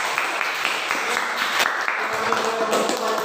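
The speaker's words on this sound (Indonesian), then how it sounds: "Ya, tepuk tangan" Applause from a class of students during an Indonesian biology lesson, a dense steady patter of many hands clapping fairly close throughout, with a few voices faintly mixed in.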